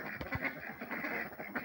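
Domestic ducks quack close by in a quick run of short, raspy calls that overlap one another, with a steady farmyard background and no talking.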